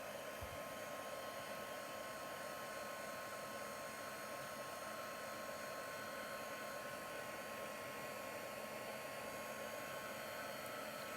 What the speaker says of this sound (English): I'm just going to hit that with the heat gun now just to dry it off a little bit